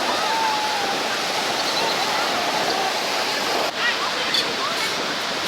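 Niagara Falls, NY, heard up close on a windy day as a constant, loud roaring rush of falling water with an even, hiss-like wash throughout.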